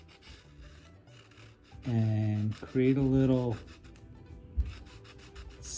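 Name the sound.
sanding wood carving with folded 220 grit sandpaper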